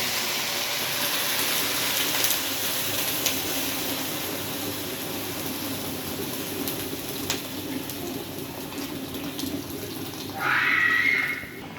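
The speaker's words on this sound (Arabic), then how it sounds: "هننزل بقى عليها بالميه السخنه" Hot water pours steadily into a pot of potatoes and meat, a continuous close splashing rush lasting throughout, with a brief brighter clink or squeak near the end.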